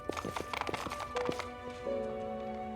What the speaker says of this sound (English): Did the horse get stuck? It's just running in circles now.